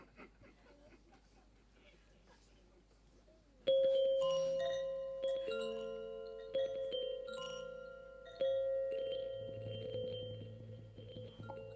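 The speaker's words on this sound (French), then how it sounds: "Le son de ce carillon" After a quiet start, a chime rings out clearly with several struck metallic tones in a row, each one sustaining and overlapping the others as they slowly fade.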